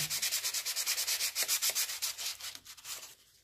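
Steady back-and-forth strokes of 600-grit sandpaper on a Johnson/Evinrude outboard reed valve, a rapid rhythmic scratching close to the mic that slows and fades near the end.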